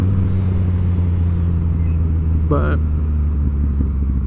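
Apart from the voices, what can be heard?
2018 Yamaha MT09 motorcycle engine while riding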